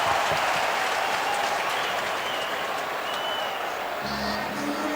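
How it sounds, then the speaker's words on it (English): Hockey arena crowd at an NHL game between the New York Rangers and Detroit Red Wings, a dense, steady roar of fans chanting for the goalie, broad and sustained with no speech on top. "The crowd with their Jimmy Howard chant now."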